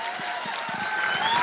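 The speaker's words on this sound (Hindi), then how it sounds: "ताली बजा दो" An audience at an AWPL company event in Agra claps in a dense, continuous burst. The applause is moderately loud and fills the whole moment.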